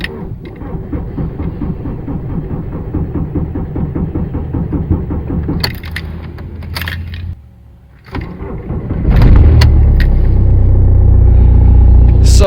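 An Audi 2.0 TDI diesel engine runs rough just after starting, with a loud, uneven throbbing idle that stumbles and dips briefly before settling into a steady, heavy rumble close to the listener.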